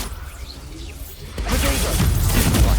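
Confringo fire spell going off in the Hogwarts Legacy video game: a quiet whooshing lead-in, then a sudden loud burst at about one and a half seconds that stays a dense crackling roar through the end.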